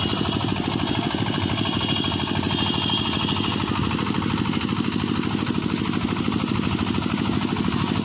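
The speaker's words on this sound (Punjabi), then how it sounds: "ਲੱਗ ਰਿਹਾ ਪੱਖਾ ਤੋੜੀਏ ਨੂੰ ਬੜਾ ਸਾਫ਼" A winnowing fan machine runs steadily while cleaning toria seed at a grain market, a close, continuous mechanical hum with a fast pulsing rumble that holds even for the full duration without talk.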